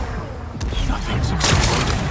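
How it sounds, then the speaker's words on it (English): Rocks blasted apart in Horizon Forbidden West make a dense run of booming crashes and rumbling debris, with a heavy impact midway, loud and close throughout. "Gotta blast away some rocks, so I can expose the power cell."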